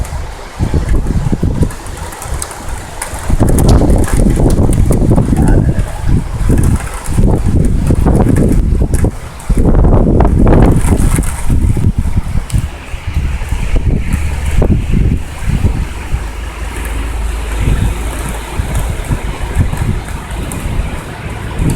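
Strong gusting wind during a violent thunderstorm in Amiens, roaring loudly and continuously with surging bursts and a steady rushing wash throughout.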